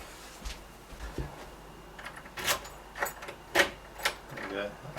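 Key turning in a Gainsborough door lock barrel, a series of close metallic clicks and jangles of the key and latch, with a person talking over them.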